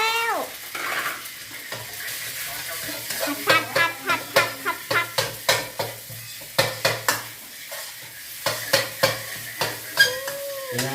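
Crab fried rice sizzles in a pan while a utensil scrapes and clacks against it in a repeated stirring rhythm, close by, with a few brief voices.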